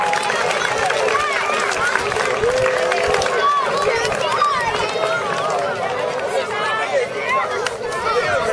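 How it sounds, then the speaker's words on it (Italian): A crowd at a youth football awards ceremony applauds the young Igueglia team, steady clapping under lively chatter and children's voices close by. "Un grosso applauso alla Igueglia"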